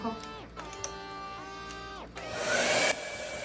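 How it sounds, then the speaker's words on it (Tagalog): A hair dryer runs in a home with a steady, close airy whoosh that swells louder toward the end, while voices and other household sound carry over it. "Mag-blower muna ako."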